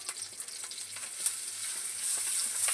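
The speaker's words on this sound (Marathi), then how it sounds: "आता लसणाला आपण तेलात छान भाजू देऊ।" Garlic frying in hot oil with curry leaves and cumin for garlic chutney, a steady, fairly quiet high sizzle running throughout without pause, with light crackles scattered through it and no voices.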